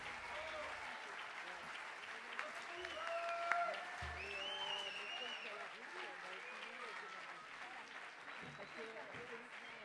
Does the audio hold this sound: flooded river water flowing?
no